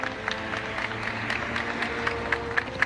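Mourners at a child's funeral break into applause as the coffin is carried in, a dense, steady patter of many hands clapping at moderate distance with a murmuring crowd underneath.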